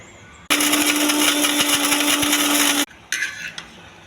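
A kitchen mixer grinds coriander and coconut chutney in one loud, steady whirring burst of about two seconds, then stops abruptly, followed by a shorter second pulse and a few lid clatters.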